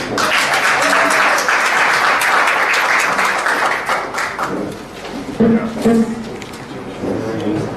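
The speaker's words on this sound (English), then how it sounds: "A round of applause for Roxanne and" A crowd applauds steadily, a dense wash of clapping that swells, then tapers off slightly while a voice briefly comes through near the end.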